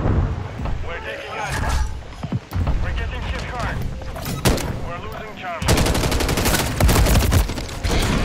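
Gunfire in Call of Duty Modern Warfare 3 multiplayer, with rapid automatic bursts and scattered shots under game voices and player chatter, ending in a sustained, loud stream of fire.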